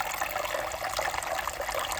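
Running water splashes steadily over a plant, rinsing soil off its roots beside a new koi pond, a constant close hiss with no pauses.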